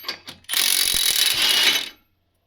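A socket wrench ratchets in one sustained, loud burst of rapid clicking lasting over a second, preceded by a few short metallic taps, while fitting an ill-sized socket on broken tracks.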